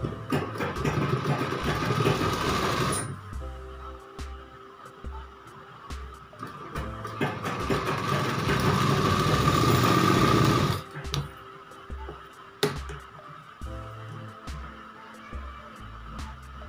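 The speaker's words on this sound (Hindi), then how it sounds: "अब इसकी सिलाई लगाएंगे दोनों साइड से" An electric sewing machine stitching the sides of a young girl's midi dress, running in steady loud whirring bursts of a few seconds each, broken by pauses and clicks as the fabric is repositioned.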